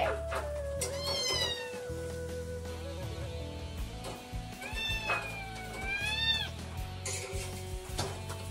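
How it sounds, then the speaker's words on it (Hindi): A pet cat meows several times, drawn-out rising and falling cries close by, over a steady background hum. "ये रही हमारी बिल्ली"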